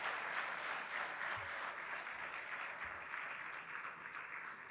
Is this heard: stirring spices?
no